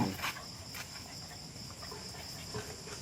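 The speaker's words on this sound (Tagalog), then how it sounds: "Kung naririnig nyo yung mga kuliglig." Crickets chirp faintly in a steady high-pitched drone through a quiet countryside night, with a few soft background noises and no talk.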